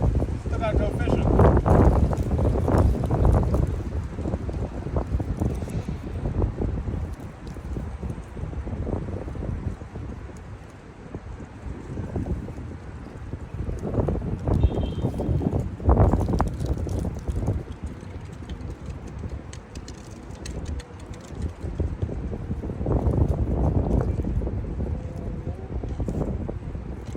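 Heavy wind roars and buffets the microphone on a striped bass fishing outing, steady and loud with surging gusts, and someone talks briefly in the middle.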